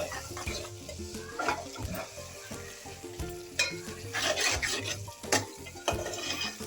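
Taro root curry being stirred in a pan as it cooks, with rhythmic scraping and rubbing of a spatula over a low sizzle and occasional clinks against the metal, no voices.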